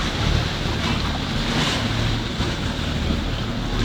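Rough sea waves churn and rush continuously, loud and close, with wind buffeting the microphone throughout.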